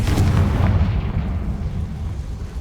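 A Confringo blasting spell in Hogwarts Legacy bursts into a deep, booming explosion with a heavy low rumble that rolls on and slowly fades over a couple of seconds.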